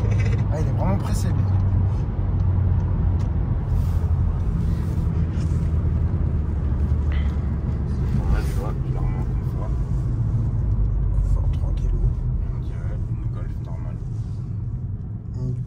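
An Audi RS6 accelerating hard gives a deep, loud engine rumble that builds and carries on, while people talk excitedly over it.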